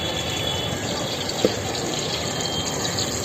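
Tap water runs in a steady, close gush while green chillies are washed in a sink, with one brief clink partway through.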